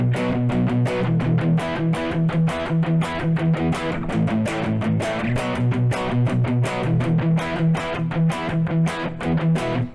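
Heavily distorted electric guitar strums a song's verse section with steady, dense chord rhythm, loud and close, sounding alone without voice.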